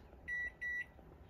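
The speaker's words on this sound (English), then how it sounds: "I'm going to set the timer for, I'm going to put it on for like 40 minutes." An RV oven timer in a Leisure Travel Van gives two short, evenly spaced electronic beeps, faint and close, over a quiet low hum.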